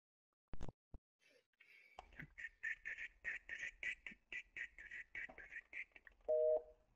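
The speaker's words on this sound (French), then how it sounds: "le bruit d'une touche d'un téléphone fixe" Repeated beeps from a landline telephone keypad come through a gaming headset, a steady run of short electronic tones after a couple of sharp clicks, ending in a longer tone.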